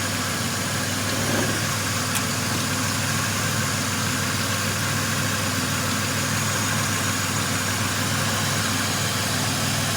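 A 1996 Dodge Grand Caravan engine runs at a steady idle with a continuous low mechanical hum and faint vibration, close by and fairly loud throughout, with no talking.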